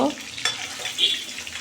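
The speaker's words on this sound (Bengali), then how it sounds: "এখন মাছগুলো আমি তুলে নিচ্ছি" Fried fish pieces are lifted out of hot frying oil, with a steady close sizzle that holds broadly through the clip and brief clinks and scrapes of a utensil, and no talking.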